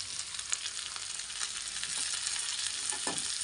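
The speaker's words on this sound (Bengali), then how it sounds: "আবারও ক্যাপসিকামগুলো দিয়ে আবারও ভালো করে ভেজে নেব।" Chopped capsicum fries in a pan for a vegetable chicken soup, giving a steady, close, bright sizzle that runs unbroken, with faint stirring ticks.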